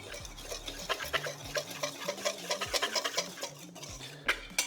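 Cocoa powder, chocolate protein powder and almond flour are whisked into a batter in a bowl, giving soft, rapid, rhythmic scraping and tapping, fairly quiet and close under faint background music.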